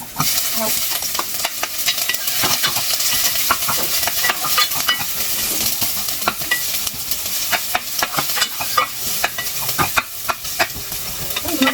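Chopped onions sauté in a hot pan after browning garlic, a steady loud sizzle running throughout with frequent scraping clicks of a spatula stirring them.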